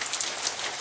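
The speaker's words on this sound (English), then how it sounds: "I'm gonna let the rain settle" Steady rain pattering on a surface, a dense even hiss of drops, moderately faint and continuous with no voices.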